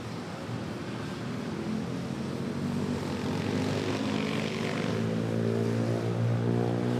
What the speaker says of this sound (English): here we have a flight from Fukuoka, Japan, touching down Philippine Airlines